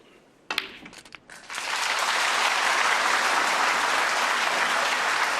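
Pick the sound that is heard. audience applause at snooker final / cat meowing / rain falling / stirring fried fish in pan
audience applause at snooker final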